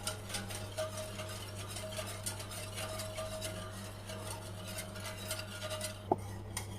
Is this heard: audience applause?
no